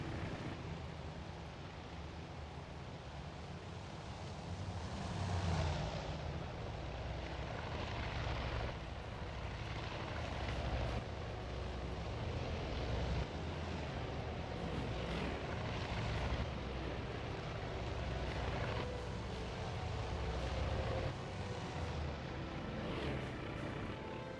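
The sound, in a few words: aircraft engines of planes in the video game Battle Simulator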